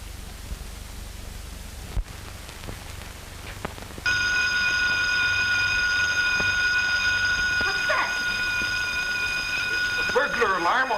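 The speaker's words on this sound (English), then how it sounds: "Burglar alarm on the garage." A burglar alarm on a garage starts ringing suddenly and keeps going as a loud, steady electric bell tone, with a few brief voices heard underneath it.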